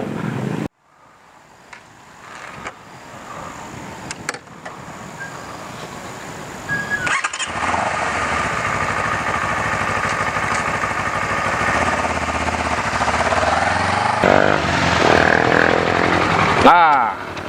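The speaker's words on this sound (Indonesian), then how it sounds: "Masih bisa mengontrol CBR 250 RR ini dengan baik." Honda CBR250RR motorcycle engine running steadily during a test ride, a sustained fairly loud drone that rises and builds over time, with wind rush and a voice talking at the start.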